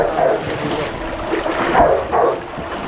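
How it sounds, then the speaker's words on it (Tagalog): Strong floodwater current rushes through a flooded barangay near a river, a loud, continuous turbulent wash with surging swells and no talk. "Malakas ng ka-current ng ano, ng tubig."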